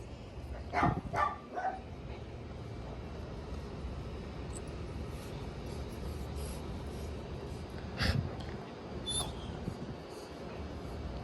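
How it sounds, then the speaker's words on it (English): A dog gives a few short, sharp vocal bursts, one pair early and another later, close by against a steady outdoor background hum. "He's such a good doggy."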